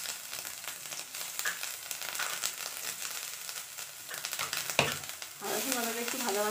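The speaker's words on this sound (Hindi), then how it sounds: "आदा रसुन बाटा एक भाजा भाजा करब।" Ginger garlic paste fries in oil in a kadai, giving a soft, steady sizzle with light stirring scrapes. The sizzle grows slightly fuller toward the end.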